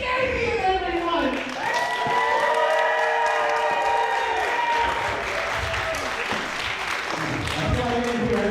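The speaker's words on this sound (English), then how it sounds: "I feel like I'm going to hear everybody applauding" Audience applause at a wrestling show, steady and fairly loud throughout, mixed with someone speaking over it in a harmonic, announcer-like voice.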